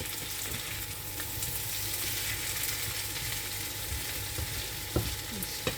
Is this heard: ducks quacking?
no